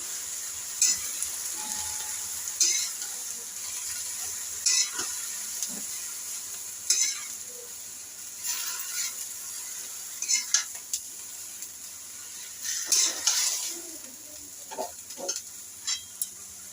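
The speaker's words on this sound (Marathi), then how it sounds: "इथे मी तेलावर छान अशी भाजी परतून घेतलेली आहे" Fenugreek greens sautéing in oil in a pan, a soft steady sizzle broken by scraping stirs and light clinks of a spatula against the pot, close and alone without talk.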